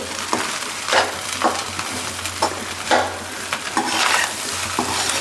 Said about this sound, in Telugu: బాగా ఫ్రై చేసుకుంటేనే బాగుంటుంది అన్నీ వేసిన తర్వాత ఎగ్ ఫ్రైడ్ రైస్